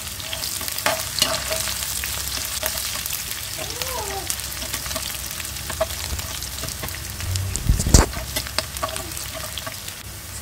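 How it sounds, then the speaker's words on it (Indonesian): Garlic and shallots sautéing in a hot pan give a steady broadband sizzle with occasional stirring scrapes and a louder clatter near the end; faint bits of voice pass in the background. "kita tumis bumbunya ya, bawang putih dan bawang merah"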